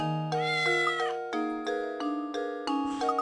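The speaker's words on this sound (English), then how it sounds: "Meow." A cartoon cat meows repeatedly in the puzzle adventure game Professor Layton and the Curious Village, a series of clear, bright, tonal mews in quick succession, close and loud with no talking over them.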